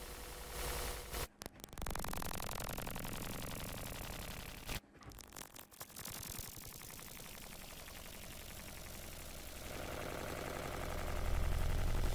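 Harsh digital feedback noise pushed through an OTT multiband compressor: dense, loud broadband static with abrupt dropouts near the start and middle, then a steady roar that swells toward the end, with no voices.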